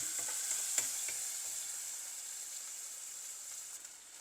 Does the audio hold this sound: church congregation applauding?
no